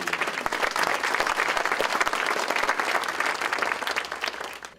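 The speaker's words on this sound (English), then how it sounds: "So everybody, please, a round of applause for our keynote, James Fee." A conference audience at GISITR 2013 applauds its keynote speaker with dense, loud clapping that holds steady for several seconds and then fades, with no speech over it.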